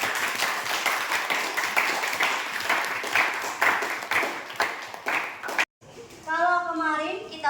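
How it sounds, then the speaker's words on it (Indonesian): A classroom claps for a student named Ilham, with many hands producing busy, moderately loud applause for several seconds. It stops abruptly, and a voice speaks clearly afterward. "Beri tepuk tangan untuk Ilham."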